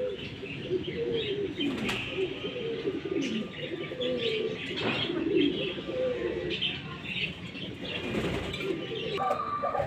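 Pigeons coo continuously in a low, throaty murmur close by, with occasional chirps and a flutter of wings layered over the steady burble.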